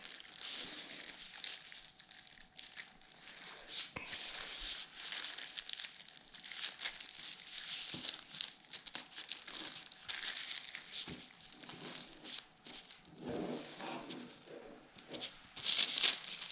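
Origami paper being folded and pre-creased by hand, with soft continuous crinkling and crisp crackles close to the microphone, a few sharper creases standing out.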